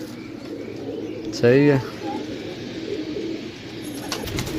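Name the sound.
pigeons cooing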